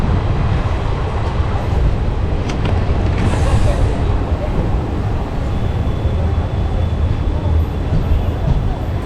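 The Hool Express arrives at Durgapur Junction with a continuous loud rumble of rolling wheels and carriages, mixed with station bustle and brief clanks.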